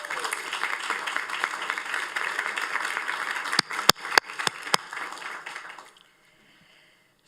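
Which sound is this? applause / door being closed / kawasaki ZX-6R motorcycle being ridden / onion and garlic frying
applause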